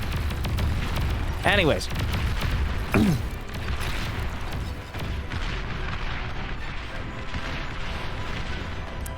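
Rocket fire and explosions in the real-time strategy game Beyond All Reason make a dense, continuous barrage of booms and crashes, with two sweeping whistles early on. Someone talks over the rumble.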